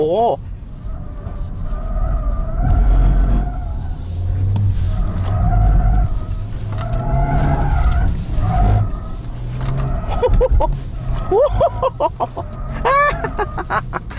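A BMW sedan sliding its rear on a test track, tires squealing in repeated sharp bursts over engine noise while people exclaim loudly nearby.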